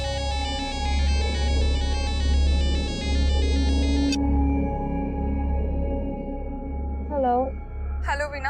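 A phone ringtone on a handset in a Hindi crime drama plays loud and steady for about four seconds, a repeating electronic melody over a low hum, then breaks off; a short warbling electronic tone follows near the end.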